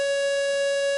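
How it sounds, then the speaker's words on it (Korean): A South Korean civil defense alert warning siren sounds one flat, unwavering electronic tone. It is loud and steady for the whole second, with no speech. "들으신 소리, 이 소리는 경계경보라고 합니다."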